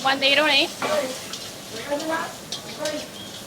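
Onion frying in hot oil with mustard seeds and cumin in a home kitchen, a soft sizzle and stirring sounds running under a voice talking close by.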